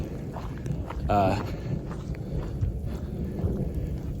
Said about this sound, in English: it's like kind of a daily experience to be caught in afternoon thunderstorms just like this, but even more intense.